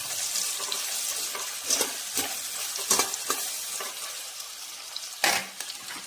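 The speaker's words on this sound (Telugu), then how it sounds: "ఈ ఉల్లిపాయలు వేసాక కొంచెం మగ్గాలన్నమాట." Onions frying in a pan as the base for a bitter gourd and onion-chilli dish, a continuous close sizzle broken by several sharp scraping stirs.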